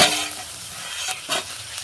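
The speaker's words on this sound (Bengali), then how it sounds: "দিয়ে এটাকে ভালো করে একটু নাড়াচাড়া করে আরও 3-4 মিনিট একটু রান্না করে নেব।" Food being stirred and cooked in a pan for a child's school tiffin: a steady frying sizzle broken by a few short, brighter scraping strokes from the spoon, close and fairly loud with no talk.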